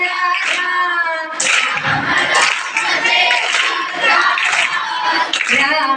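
A group at a school workshop claps hands in a steady rhythm over continuous chanted singing, and the clapping stays partly masked by the voices throughout.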